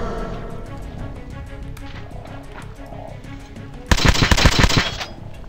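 Burst of automatic gunfire in Metro Last Light erupts late and loud after a stretch of quieter game ambience, a rapid rattle of shots lasting about a second.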